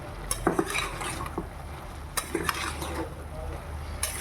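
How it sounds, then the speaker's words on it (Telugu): Spoon stirring country chicken (natukodi) pieces coated with garam masala in a pan: scraping, clinking strokes at an uneven pace over a faint sizzle, close by. "గరం మసాలా స్పూన్, బాగా కలుపుకోవాలి."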